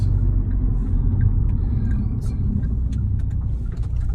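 A 2013 Kia Optima with ABS speed sensor and power steering issues drives on the road, giving a steady low cabin rumble with faint clicks and ticks above it and no talking.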